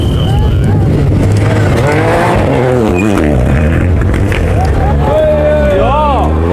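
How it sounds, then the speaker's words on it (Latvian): A rally car at Rally Aluksne 2017 sweeps past at speed along a road through residential yards, its engine rising and falling loudly as it goes by. Voices talk underneath. "Uzreiz silti paliek, ka šāda mašīna pabrauc garām."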